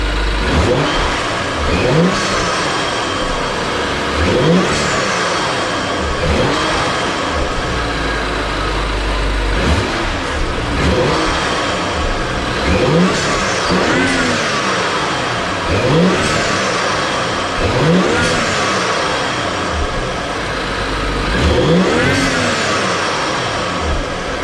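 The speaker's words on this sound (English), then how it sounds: "let me start up the car and then see how this is sound" A BMW X5 F15 fitted with a Burger Motorsport intake starts up and revs again and again, each rise and fall of the engine note repeating in a steady cycle, loud and close with no talk.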